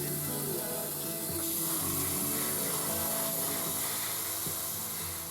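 Black paint hisses steadily from a spray onto an M26 Pershing tank scale model, a close, even, continuous rush without pauses.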